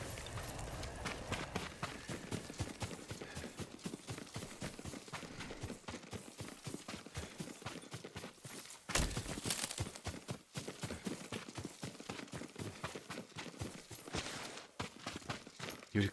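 Horse hooves galloping and clip-clopping steadily in Ghost of Tsushima, a dense rapid rhythm of hoof strikes held throughout, fairly close and loud, with a brief louder burst partway through and no talking.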